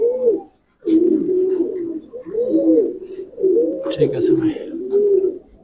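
Black racer pigeons coo close up in a run of rhythmic, throaty rolling calls separated by brief pauses, while someone speaks briefly over them.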